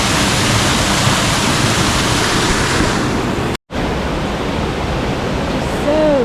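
Small stepped waterfall cascades along a trail in Solstice Canyon, Malibu: a dense, constant rush of falling water, loud and close, briefly cut out for an instant midway.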